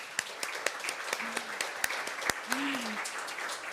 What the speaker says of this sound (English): may I please ask you to kindly give a warm round of applause to our interpreters